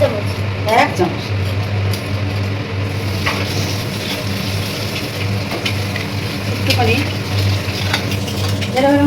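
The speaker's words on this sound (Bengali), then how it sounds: "তিনটে পেঁয়াজ তুলে নিয়েছি তেলের মধ্যে দিয়ে দিয়েছি পেঁয়াজটা একটু ভেজে নেবো" Onions fry in oil in a pan, with a loud, continuous sizzle and scraping stirs of a utensil close by, under a person talking throughout.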